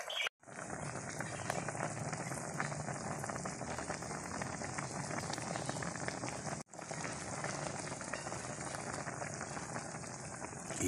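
Chicken feet asado slowly simmering in vinegar in a pot, a steady close bubbling and sizzling hiss that runs continuously with a brief break near the start and another midway.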